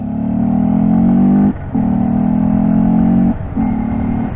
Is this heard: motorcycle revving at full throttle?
yes